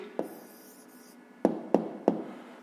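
A pen writes a short math answer on paper, with one tap at the start and then three firm, quiet strokes in a slow rhythm, close and alone.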